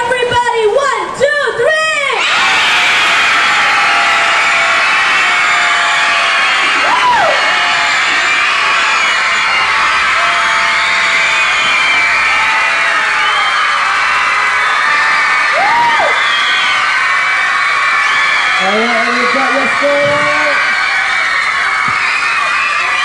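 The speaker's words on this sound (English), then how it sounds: "If you want to scream, you can scream also." A group of children cheers and screams backstage at the Sing!Singapore 2010 singing event. The shouting, whoops and yells are loud, dense and sustained throughout, with voices talking over the noise.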